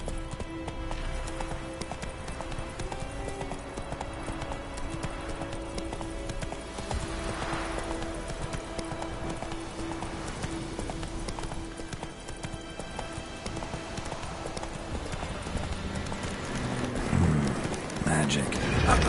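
Roach the horse galloping in a video game on PS4, a steady clip-clop of hooves running under game music and ambience, continuous and fairly close, growing louder toward the end.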